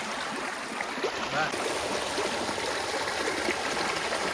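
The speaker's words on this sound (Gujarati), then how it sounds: "કેટલું મસ્ત પાણી જાય છે" Stream water flowing at Lal Dhori near Bhavnath, a steady broadband rush and trickle that continues throughout, close and even, with faint voices now and then.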